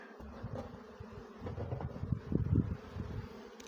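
A calm bee swarm moved from a trap into a hive, giving a steady, close buzzing hum that swells toward the middle, with light wind noise and no talk.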